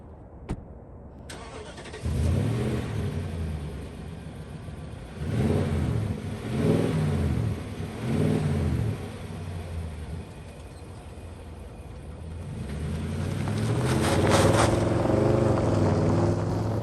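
A Nissan Titan Pro4X's 5.6-liter V8 starts up and revs several times in strong rhythmic bursts, a deep loud exhaust note, before settling into a steady, rising drone.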